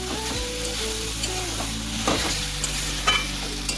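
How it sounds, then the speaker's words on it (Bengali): A cabbage patty mixture, with sauce and salt added, sizzles and is stirred in a pan, giving a steady close frying hiss broken by short scraping stir knocks. "ভেজে নিচ্ছি।"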